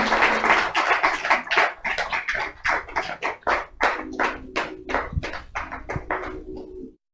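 A church congregation clapping for everyone present, a run of sharp, uneven bursts of hand claps that thin out toward the end, fairly close and with no talking over them.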